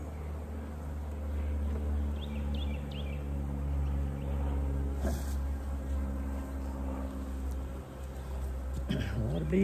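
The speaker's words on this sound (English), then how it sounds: "Bees on this plastic frame here." Honeybees hum on a plastic hive frame during a winter hive inspection, a steady low drone with a few close buzzes passing nearby.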